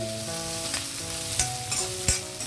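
Onion and green chillies fry in oil with cumin seeds, giving a steady close sizzle with a few stirring knocks against the pan, over faint background music.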